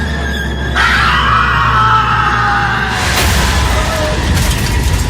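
A man's long, loud scream in a Hindi audio drama, rising sharply and held for several seconds over a low rumbling boom and dramatic background score.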